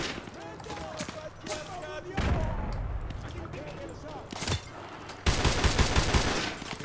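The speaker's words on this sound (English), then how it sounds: "Now I'm going to have to shoot them." Bursts of rapid gunfire crackle in Modern Warfare 2 Remastered, loud volleys separated by quieter gaps, with someone talking over parts of the shooting.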